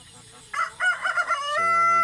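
Rhode Island rooster crowing once at dawn on a farm, a close, loud, rising cock-a-doodle-doo lasting over a second with a held final note, heard alone.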